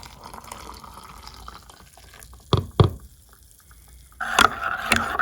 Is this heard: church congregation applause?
no